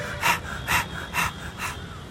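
A person imitates heavy breathing after running, with four rhythmic, breathy huffs in an even pattern, close and moderately loud, and no other sounds.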